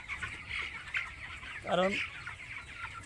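Nineteen-day-old broiler chickens cluck inside a poultry farm shed, with a faint continuous flock murmur and one louder, clear cluck standing out near the middle while a person speaks briefly.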